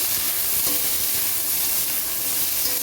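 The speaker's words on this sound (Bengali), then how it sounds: "ডাটাগুলো একটু ভেজে তুলে নেবো" Bottle gourd stalks fry with salt in a pan, a steady close sizzle with faint stirring scrapes, no voices.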